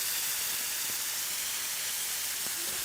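NY strip steak searing in a pan over full heat, a steady broad hiss with faint crackles running throughout at moderate level, no talking.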